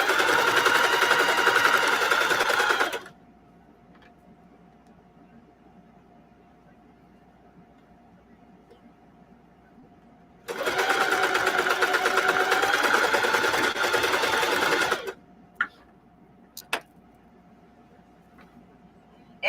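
An embroidery sewing machine stitching a design onto jeans runs in two loud, fast-buzzing bursts of several seconds each, with a quiet stretch between them and a few faint clicks afterward.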